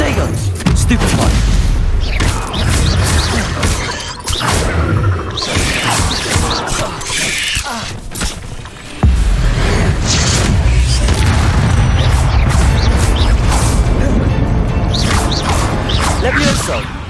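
Stupefy is cast repeatedly during combat in Hogwarts Legacy: loud, near spell blasts, thuds and crashes follow one another over steady game noise, with voices heard at times.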